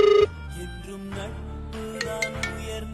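A phone ringtone plays for an incoming call from a brother: a short, loud melodic ring at the start, then dies away into quieter background sounds.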